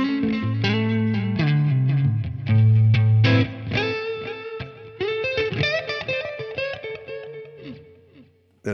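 An electric guitar through compression and delay effects plays picked chords and single notes with a processed, echoing tone, trailing repeats ringing after each phrase.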